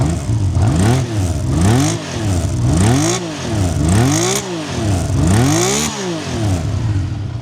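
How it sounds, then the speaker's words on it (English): A warm Honda CBX1000 six-cylinder motorcycle revs repeatedly, about seven rising and falling blips of a smooth, wailing engine note in a regular rhythm, loud and close with no voices. "It's that iconic six-cylinder sound."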